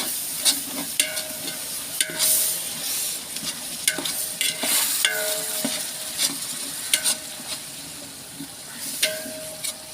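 Onions frying in oil for mutton biryani, a continuous close sizzle and hiss punctuated by repeated scraping and clanking as a spoon stirs the pan.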